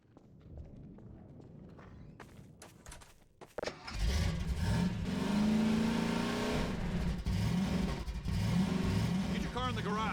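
In Half-Life 2 VR, a car's engine starts up after some quiet clatter and then drones and revs loudly and close by, its pitch rising and falling as it drives, with brief voice lines over it.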